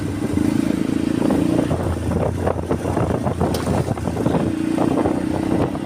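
A motorcycle with a loud aftermarket exhaust rumbles steadily at close range under heavy wind buffeting, its low throaty exhaust droning throughout.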